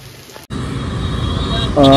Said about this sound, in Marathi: सकाळ सकाळ पाऊस चालू झालेला आहे